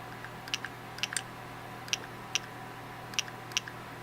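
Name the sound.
paintball marker solenoid firing in semi-auto mode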